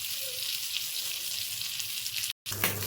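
An egg fries in oil in a home kitchen pan, a steady hissing sizzle that runs close and even, broken by a brief cut of silence near the end.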